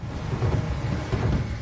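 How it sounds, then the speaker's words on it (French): A thunderstorm with a gale blowing gives a steady low rumble of thunder mixed with the hiss of rain, dense and continuous with no break and no talking. "Un orage a éclaté, une tempête de vent."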